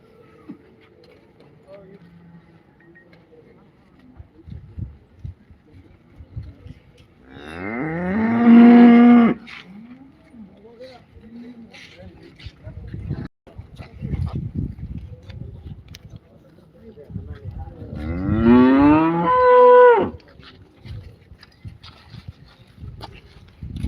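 Cattle lowing at a busy open-air cattle market in Chintamani, two long loud moos spaced several seconds apart over crowd noise and clatter, with voices talking in the background.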